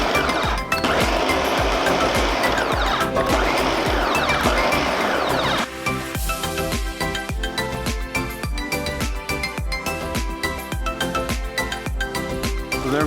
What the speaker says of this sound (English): So now we're gonna pulse the tomatillos, the tomatoes, the jalapenos, and the garlic.